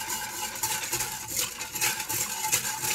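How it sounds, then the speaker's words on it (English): Whisk scraping and tapping steadily in a pot as reserved starchy pasta water is worked into spaghetti sauce, a continuous close metallic stirring without talk. "Just whisk that all in."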